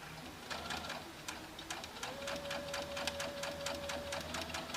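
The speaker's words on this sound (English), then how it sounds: "So I'm going to sew diagonally right across this." A sewing machine stitches diagonally across fabric binding strips, a quiet, rapid run of evenly spaced mechanical clicks with a faint steady motor hum underneath.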